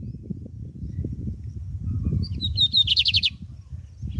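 Lined seedeater (bigodinho) singing after rain, a clear run of high, quick repeated notes that ends in a trilled burst, over a steady low background rumble.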